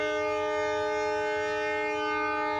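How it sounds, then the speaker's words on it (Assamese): Horn of the Donyi Polo Express train, a steady sustained multi-tone blast held for the whole moment, loud and unbroken. "হৰ্ণ দিলে এতিয়া যাব ট্ৰেইন।"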